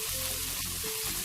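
Chicken gizzards stir-fry in a hot wok with a brief, dense, steady sizzle, close and even, with no talking.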